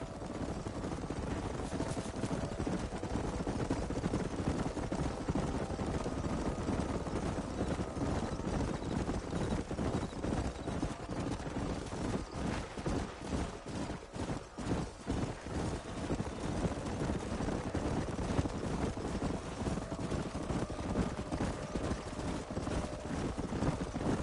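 Horses gallop with dense drumming hooves in the video game Red Dead Redemption, a herd being driven up a narrowing canyon; the pounding is continuous and loud for the whole stretch, mixed with wind noise.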